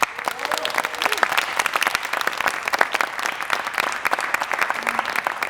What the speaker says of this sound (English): I want you all to give them a round of applause.